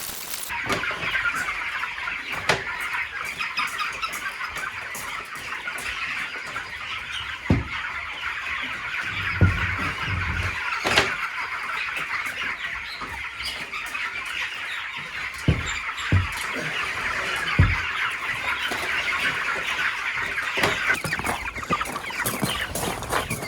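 Broiler chickens cluck and squawk steadily while being handled during pasture work, a busy close flock chorus with occasional sharper calls and thumps, no talk.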